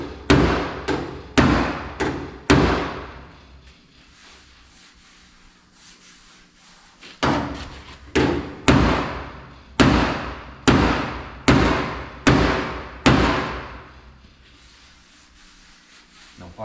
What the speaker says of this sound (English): let's just tap out the edge of that door a little first and see